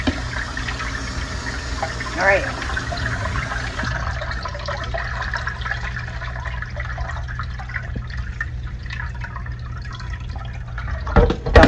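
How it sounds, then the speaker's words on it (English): Cool tap water runs steadily into a kitchen sink while vegetables are rinsed for a Louisiana chow chow relish, a close, continuous splashing stream with a short remark spoken over it. "turn the cool water on, and I'm gonna rinse it"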